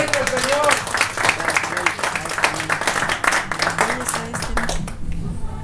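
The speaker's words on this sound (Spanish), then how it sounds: "Un aplauso fuerte al Señor." A church congregation claps in an uneven, lively burst, with individual hand claps standing out and voices mingling over it, tapering off near the end.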